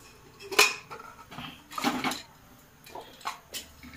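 A metal lid comes off a popcorn pot with several sharp clanks and scrapes, loud and close, separated by quieter pauses.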